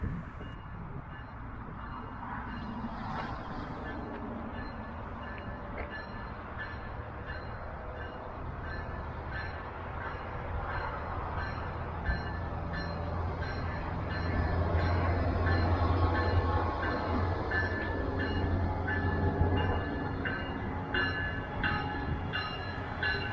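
A Brightline passenger train rumbles steadily at a distance, its low engine drone building gradually as it departs toward Orlando, with faint rail clatter throughout.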